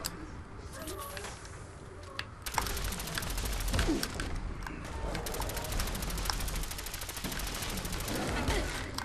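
Rapid gunfire from a Fallout 4 firefight, dense volleys and automatic bursts crackling steadily at close range, with a voice talking over the shooting.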